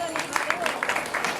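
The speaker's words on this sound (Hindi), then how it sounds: "इनके लिए जोरदार तालियां।" An audience at a Hindi-language stage event applauds with a burst of hand clapping, a dense crowd patter heard close, while a voice talks over it.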